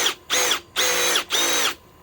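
A power drill driving fasteners into an old tree stump buzzes in three short close bursts of high whining motor sound, separated by brief pauses.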